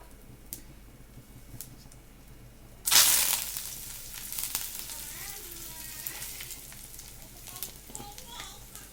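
Mustard seeds hit hot oil for tempering a coriander-tomato pickle, and a sudden loud sizzling burst erupts before settling into a continuous crackling fry with scattered pops.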